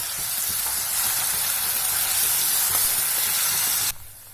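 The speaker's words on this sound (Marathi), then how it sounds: "हा मसाला साधारण आपल्याला पाच ते सात मिनिट मंद छान भाजून घ्यायचा आहे" Spice masala roasting in oil over low heat for a Maharashtrian drumstick curry, giving a loud, dense, continuous sizzle with faint stirring, up close, that drops away abruptly at the end.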